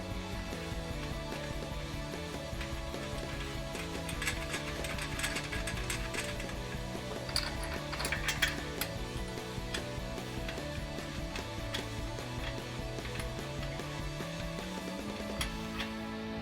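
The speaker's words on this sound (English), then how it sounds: "we can loosely tighten these bolts down with a 17mm socket and 15mm wrench" Socket and wrench snugging down bolts on a 2021-2022 Ford F-150 exhaust install, faint repeated ratcheting clicks in a continuous mechanical rhythm with a low steady background hum.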